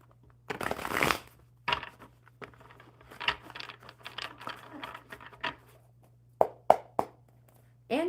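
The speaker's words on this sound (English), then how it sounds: "One more good shuffle." A deck of cards riffles in a quick burst, followed by scattered soft flicks and taps of cards being handled during a card reading.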